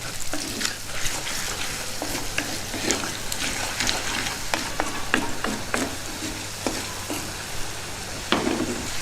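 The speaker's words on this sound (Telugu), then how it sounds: "వెల్లుల్లిపాయలను కూడా ఒక నిమిషం బాగా వేగనిద్దాం" Garlic sizzles with green chillies and onions in a hot pan for a dal of amaranth greens. Close, steady frying crackle with repeated stirring scrapes and clinks throughout, and no voices.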